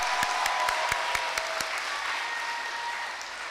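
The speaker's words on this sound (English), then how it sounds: "Let's give you a round of applause." Applause from the audience at a school's Memorial Day ceremony: steady crowd clapping with a few distinct nearby hand claps standing out, fading slightly toward the end.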